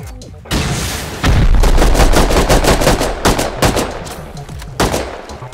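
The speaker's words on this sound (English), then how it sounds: "Keep shooting rockets." Rockets fired during a raid in the video game Rust, a loud, dense barrage of sharp blasts and booming impacts packed closely together with only brief lulls.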